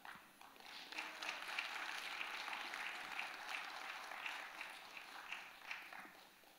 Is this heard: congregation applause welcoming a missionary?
yes